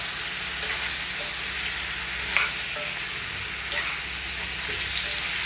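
Chopped eggplant sautéing in hot oil for kathirikai chops, with a steady broadband sizzle and occasional stirring scrapes and clicks, close and continuous with no talking.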